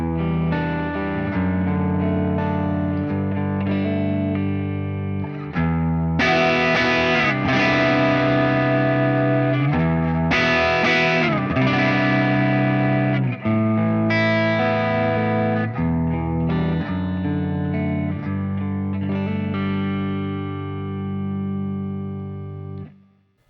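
Electric guitar played through a Boss IR-200 amp modeler, with sustained chords and melodic lines in a crunchy, driven tone that swells and eases with picking dynamics, and a final ringing chord fading out. No talking.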